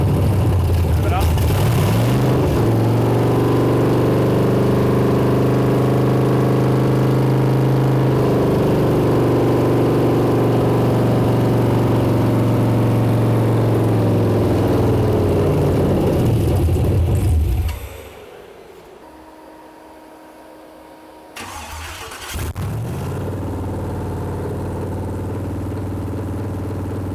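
A junkyard GM 6.0 or 5.3 V8 runs with a loud, sustained roar and climbs in revs, then drops off sharply to a quieter idle before picking back up. Voices are heard over it.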